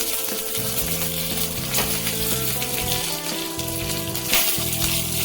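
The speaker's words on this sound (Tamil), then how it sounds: "சோம்பு, சீரகம், மிளகு, பட்டை எல்லாத்தையும் போட்டு நல்லா ஃப்ரை பண்ணிக்கணும்" Fennel seeds, cumin, black pepper and cinnamon sizzle in hot oil in a pan, a steady close crackling fry with small pops, heard alone with faint background music underneath.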